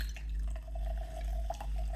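Mineral water is poured into a small measure of dark cola-flavoured mix, making a faint, steady trickle with a light ringing tone over a low background hum.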